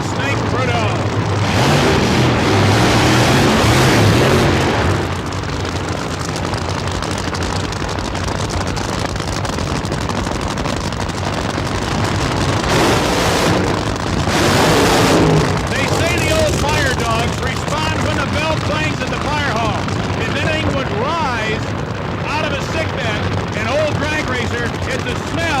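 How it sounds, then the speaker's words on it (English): Top Fuel drag cars burning nitromethane do burnouts with a loud, crackling, machine-gun-like roar that is harsh and continuous, surging around five and fifteen seconds. A commentator talks over the engines throughout. "the incredible sound of Fuel 20 cars and nitromethane and tire smoke"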